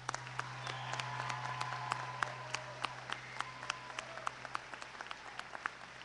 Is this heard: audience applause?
yes